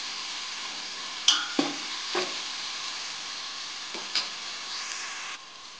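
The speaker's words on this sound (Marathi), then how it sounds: "चांगलं मिक्स करून घ्यायचं" Liver fry with ginger, garlic and coriander paste stirred in a pan, a steady sizzle with a few sharp spoon scrapes and taps, close by, ending abruptly.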